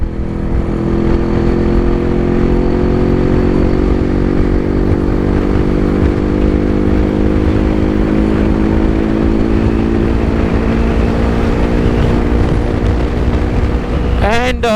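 A two-stroke Yezdi or Jawa motorcycle at speed, its engine droning steadily and loudly throughout with wind rush, the pitch wavering slightly as the ride continues.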